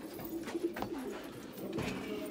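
Pigeons coo softly inside a pigeon house in a quiet loft, with a few low, throaty calls near the start and another toward the end.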